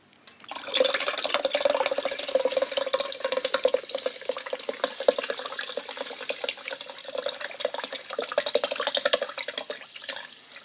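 A Red Bull drink mixture being poured for a smoothie, a steady close liquid stream with splashing and drips that starts after a short pause and runs on with no talking.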